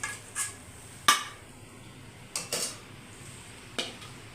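Prawn fry is scooped from a pan into a serving bowl, heard as a few sharp metal clinks and scrapes of a spoon against cookware, spaced irregularly over quiet kitchen background.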